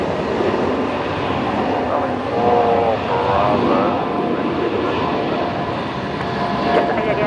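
A Jetstar Airbus A321 classic engine option taxis at Brisbane Airport, a steady loud jet engine roar and broadband rumble filling the scene, with a voice speaking in the background.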